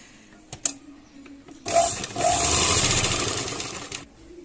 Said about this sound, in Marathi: त्यावर आपल्याला आता वरून अशी शिलाई टाकून घ्यायची आहे